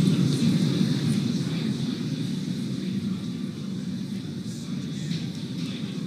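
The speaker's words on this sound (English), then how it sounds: "There is the start of stage one landing burn." The first-stage engine of a SpaceX Dragon resupply rocket fires its landing burn near Cape Canaveral, a steady, dense low roar that holds evenly throughout without a break.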